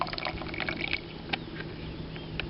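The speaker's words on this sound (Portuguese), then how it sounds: "a gente vai colocar 250 ml de água em cada litrão e ver como a água vai se comportar" Water, 250 ml of it, is poured onto a soil sample in a bottle, a steady liquid splashing and trickling with a faint hum beneath it and no talk.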